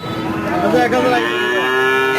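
Cattle at a bullock market in Aronkhola, Pabna, give one long, loud, close moo that rises and holds steady, with market bustle faintly behind it and no talk over it.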